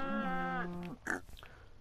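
A Minecraft pig grunts in a clear, tonal in-game oink lasting under a second, followed by a few softer rustling game sounds, close and alone with no talk.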